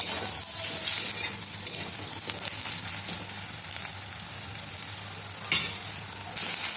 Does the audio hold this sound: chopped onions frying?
yes